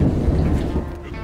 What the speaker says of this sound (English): Sorry if you can hear some thundering in the background